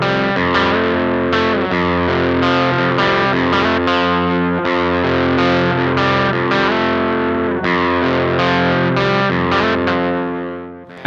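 Electric guitar run through a Tallon Electric Dual Drive pedal set to low drive, strummed chords ringing with mild saturation, loud and continuous for several seconds before fading at the end.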